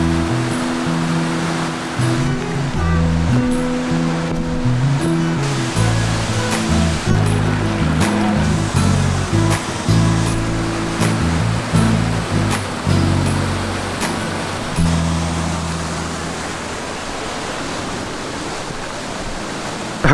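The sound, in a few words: waterfall at Corbett's Glen Nature Park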